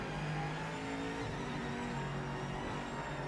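A Ford Mustang race car in the Project Motor Racing video game holds a steady, droning engine note with shifting harmonics, loud and continuous throughout as if from the cockpit.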